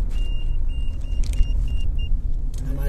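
A car driving along the road at night, heard from inside the cabin as a steady low rumble, with a repeating thin electronic beep chirping over it and a few brief clicks.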